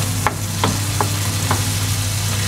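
Overripe bananas being sautéed in butter in a pan, a low continuous sizzle under a steady hum with four distinct scraping stirs spaced about half a second apart.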